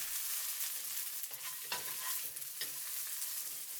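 Food sizzling as it is stir-fried in a pan while a utensil stirs and scrapes, a steady crackle with occasional clatters, close up and without talk.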